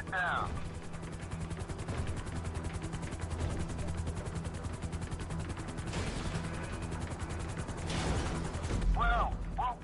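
Helicopter rotor and engine drone in GTA V as the chopper sets down on a moving trailer, a steady loud mechanical wash throughout with brief clanks and bursts near the end and a voice heard briefly.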